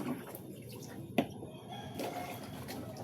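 Collected rainwater splashing as something is rinsed, a light close wash of water with one sharp knock partway, no talk.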